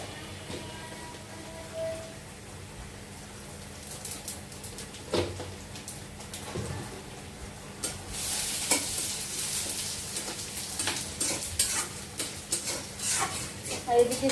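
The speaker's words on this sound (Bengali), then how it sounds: "রান্না করছি, এখন ডাল তেলে দিচ্ছি" Lentils (dal) frying and being stirred in hot oil in a home kitchen: a steady low sizzle with scraping stir strokes, growing busier and louder toward the end, with a few faint background sounds.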